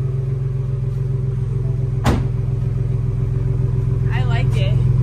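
Ford Bronco two-door with an AWE cat-back single side exit exhaust idling, a deep steady rumble throughout, with a brief sharp burst partway through and people talking faintly near the end.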